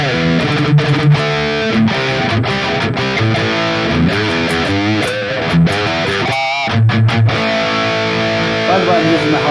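Electric guitar played through a Valeton GP-200 running a Diesel VH4 amp model preset, stock Harley Benton Fusion guitar, reverb off: a distorted rhythm tone with chords and picked notes, loud and close, a short pause near the end.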